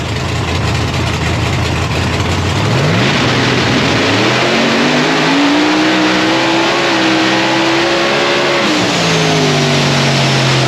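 A Mazda RX-7 drag racing car launches and accelerates down the track, its engine loud and climbing in pitch through gear changes over sustained roaring noise.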